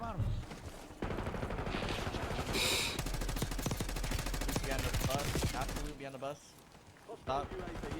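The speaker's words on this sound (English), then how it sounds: "Can also hear shots." Call of Duty Warzone video game gunfire: rapid bursts of automatic shots rattling fairly loud and dense through most of the stretch, mixed with game effects and music, easing near the end.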